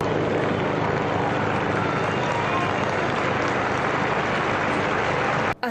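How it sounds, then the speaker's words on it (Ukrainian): Crowd applause fills St. Peter's Square at the Vatican, a dense, continuous roar of clapping from a large gathering that stays loud and even throughout before cutting off abruptly at the end. "Так оплесками Володимира Зеленського зустрічали на площі святого Петра"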